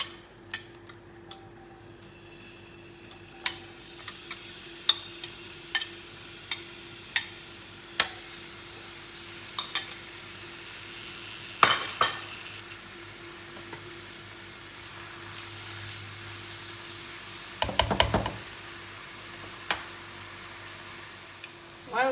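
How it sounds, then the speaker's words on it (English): Onions sautéing in ghee for aloo paratha filling, a faint low sizzle broken by repeated sharp taps and clinks of a spoon against the pan, with a brief louder stir near the end. "While waiting for the onion to be sauteed"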